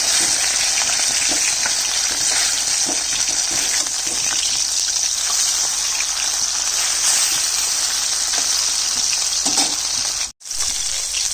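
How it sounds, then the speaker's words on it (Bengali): Fish pieces turned over in hot oil in a wok keep frying with a loud, continuous sizzle, broken by one brief drop near the end, with no voices present. "এক পাশ ভাজা হয়ে গেছে, আরেক পাশ উল্টে দিচ্ছি।"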